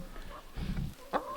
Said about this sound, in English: Let's go take a look at the chickens, because last night was their first night in their new coop.